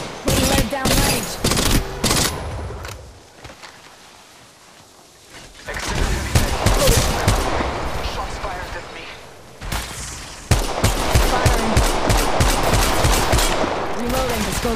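Rapid automatic gunfire bursts and single shots in Apex Legends Mobile, loud and close, with short pauses between volleys and brief radio-style voice callouts mixed in.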